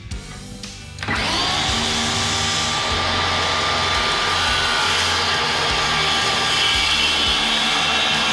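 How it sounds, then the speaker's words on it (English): A new power saw cuts reclaimed hardwood and plywood for a shop bench: after a second of quiet the saw spins up and holds a loud, steady, close whine through the cut. "I'm going to try out this new saw for the first time on a real project"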